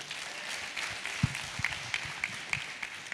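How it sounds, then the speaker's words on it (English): Sparse, fairly quiet applause from a conference audience in a hall, scattered individual claps rather than a dense ovation. "Ladies and gentlemen, a big round of applause for Dr."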